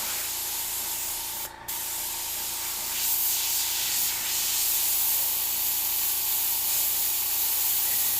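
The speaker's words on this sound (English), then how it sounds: "for airbrush here, I'm using my Takumi Eclipse, not the Micron" An Iwata Eclipse airbrush sprays paint in a continuous close airy hiss that holds steady throughout, with a brief break near the start before the spray resumes slightly louder.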